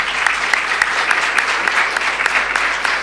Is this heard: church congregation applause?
yes